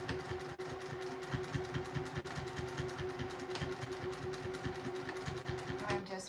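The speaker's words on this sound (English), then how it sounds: "This Juki TL2000QI with a 9014 needle and my favorite Aura Fill thread doesn't have any problem stitching right through that leather." A Juki TL2000QI sewing machine with a 90/14 needle and Aurifil thread stitches through leather, giving a steady rapid mechanical chatter that runs continuously at close range, with talking over it.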